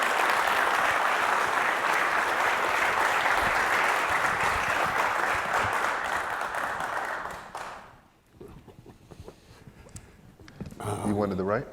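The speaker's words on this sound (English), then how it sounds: "Let's give them a round of applause." Audience applause for Dr. Charles Johnson and Steven Barnes at an evening event, a loud, dense burst lasting about eight seconds before fading out, followed by people talking nearby.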